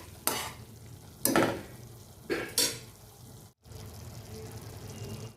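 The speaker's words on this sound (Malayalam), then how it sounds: "ഇത് നമുക്ക് നന്നായി മിക്സ് ചെയ്ത് യോജിപ്പിക്കാം" A spoon scrapes through chili and coriander powder in a pan in three sharp, brief strokes over a soft background sizzle, followed by a short pause and steady low frying.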